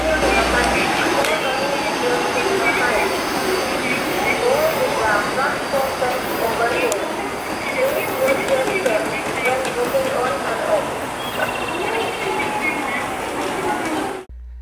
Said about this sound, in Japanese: 続けて500系のこだま868号新大阪行きが発車。